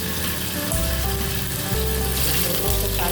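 Tofu frying in hot cooking oil in a pan: a dense, steady sizzle and crackle, loud and close throughout, with faint low hum underneath and no voices.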